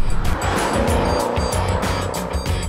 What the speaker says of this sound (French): le punch du V8 de 612 chevaux catapulte la bête à la moindre portion de ligne droite